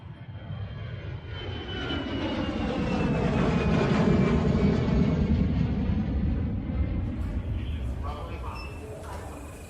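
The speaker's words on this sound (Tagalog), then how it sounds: "sa wakas, nakababa na din tayo ng eroplano" A passenger airplane's engine roars steadily, building and then easing off as the aircraft passes fairly close, with a faint voice near the end.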